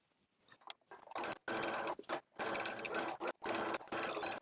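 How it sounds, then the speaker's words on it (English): A sewing machine stitches the seam of a jacket in a coat-making class. Close, loud whirring comes in several bursts of stitching with short stops between them, and no one talks. "So I'm gonna start sewing from here all the way to the other side,"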